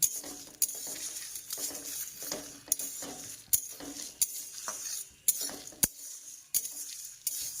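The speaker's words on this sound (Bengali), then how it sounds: "এটাকে আমি ভালো করে একটু নেড়ে চেড়ে নিই" Mixed spices being stirred and lightly heated in a pan, repeated sharp metallic scrapes and clinks of a spoon against the pan in an irregular rhythm, with soft rustling between strokes and no talking.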